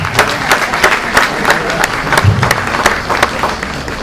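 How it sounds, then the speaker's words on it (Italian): Audience applause at a regional political event, dense and loud clapping from a close crowd with rhythmic sharp claps throughout the short burst. "salutiamo con un grande applauso"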